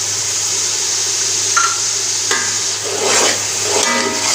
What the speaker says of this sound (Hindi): ज़ीरे को थोड़ा सा भूनेंगे।